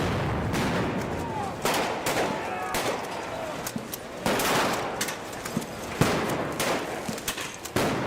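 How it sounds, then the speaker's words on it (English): Police fire AK-47s and sniper rifles at protesters on Maidan in Kyiv, heard in news footage as scattered sharp cracks and bursts over a constant rough crowd-and-street noise. "police fire on protesters with AK-47s and sniper rifles"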